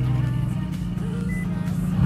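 A car engine started with a start-stop button settles into a steady, loud, close idle with a deep rumble that lasts throughout, with no talk over it.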